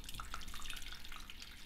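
Hot water is poured into noodle sauce for water snail noodle soup, giving a soft, steady trickle with small splashy bubbling, close and quiet, with no talking.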